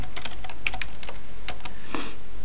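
Clicky computer keys are tapped in a quick irregular burst, close and clear, as a switch configuration command is typed, with a sharper keystroke near the end.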